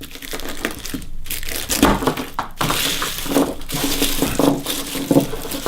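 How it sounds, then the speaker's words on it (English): A head of garlic is broken apart into cloves by hand, with close, crisp crunching and papery crackling of the skins in irregular bursts. "Step one is you break apart the head of garlic."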